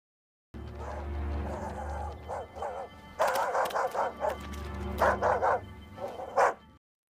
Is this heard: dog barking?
yes